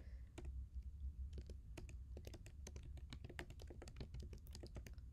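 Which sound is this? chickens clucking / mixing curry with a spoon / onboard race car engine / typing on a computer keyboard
typing on a computer keyboard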